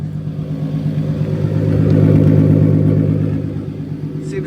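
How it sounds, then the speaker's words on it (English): A turbocharged BMW E46 with a swapped M52B28 engine runs nearby, giving a loud, steady, throbbing exhaust note that swells slightly in the middle of the few seconds heard. "Great exhaust note, so I'm stoked."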